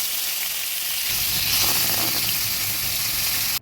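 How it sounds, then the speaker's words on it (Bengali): Katla fish pieces coated in salt and turmeric fry in hot oil with a steady, close sizzling hiss that swells slightly partway through, then cuts off abruptly at the end. "আমি নুন হলুদ দিয়ে কাতলা মাছটাকে মেখে এক্ষুনি ভেজে নিচ্ছি।"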